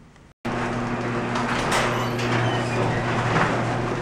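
A garage door rolls upward, its panels rattling and banging against hardware along the track; a steady, fairly loud mechanical rumble with a low motor hum that runs unbroken after a brief silent gap at the start.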